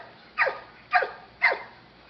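Three evenly spaced dog barks, short and sharp, each about half a second apart, clear and fairly close against a quiet background.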